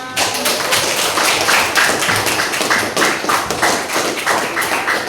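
Classroom group clapping hands together, a steady patter of many claps for about five seconds, close and fairly loud, with no talk over it.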